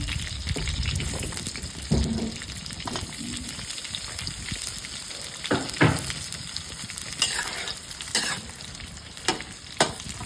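Carrots and chicken fry in a pan for chicken afritada, sizzling with intermittent scraping and stirring sounds cutting through the steady crackle.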